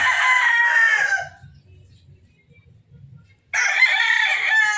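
A rooster crows loudly nearby, pauses through a quiet stretch, then crows again in a second long, strained call.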